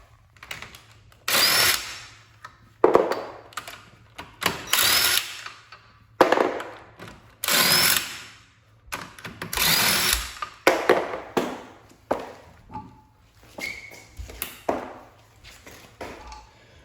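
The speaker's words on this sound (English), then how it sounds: "you want to remove the passenger side wheel, and it has 4 lug bolts, which takes a 17mm socket." A power tool with a 17mm socket removes the four lug bolts on the passenger-side wheel while installing an MPX underdrive pulley kit. It makes loud whirring, rattling bursts in repeated runs, with short gaps between them and no talking.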